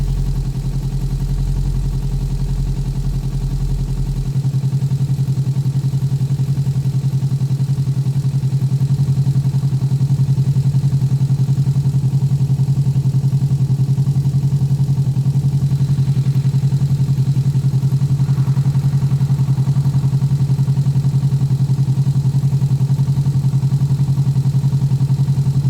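A motorbike engine runs steadily and close, picked up by several microphones at once. It gives a constant, loud low drone with a deep, even hum and a slight shift in tone early on.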